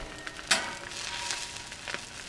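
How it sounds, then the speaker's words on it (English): A soft, steady sizzle of an egg frying on a hot Royal Gourmet tabletop griddle, with faint crackles and pops, quiet and close. "Let's cook this egg."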